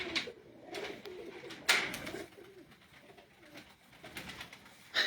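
Flying pigeons coo in low, soft bursts, with a few louder calls standing out against a quiet rooftop background.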